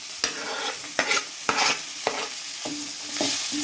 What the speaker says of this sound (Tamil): தக்காளியை நல்லா வதக்கிக்கோங்க.